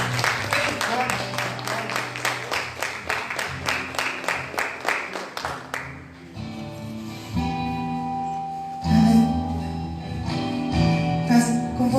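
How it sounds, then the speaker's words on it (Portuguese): A church congregation claps rhythmically in unison during a worship service, steady beats that stop about halfway, followed by sustained organ-like tones and a voice. "Vamos aplaudir ao Senhor bem forte."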